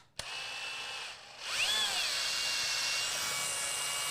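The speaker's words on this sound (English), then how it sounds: "You also wanna make sure your drill is going the correct way." A power drill bores into small plastic Dollar Tree dice to hollow them out, starting with a sharp click, then a steady high-pitched whine with rising and falling tones as the bit bites into the plastic, loud and close.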